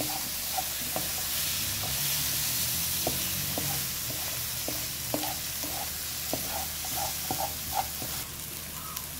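Tomatoes and onions fry in a pan with a broad, constant hiss, while a spatula scrapes and taps the pan in scattered light clicks during stirring, no talking.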